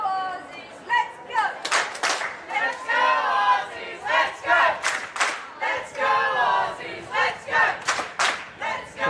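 Australian supporters chant rhythmically at a women's cerebral palsy football final against Japan, loud repeated crowd bursts rising and falling in a steady cadence through the stadium.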